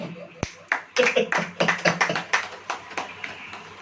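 Church congregation clapping hands together, a rapid run of overlapping claps building after a single sharp clap, close and loud, with voices faintly present.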